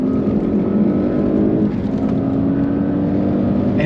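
Audi S8 with around 700 hp under kickdown acceleration, a loud close continuous engine roar with rising tones, alone without talk.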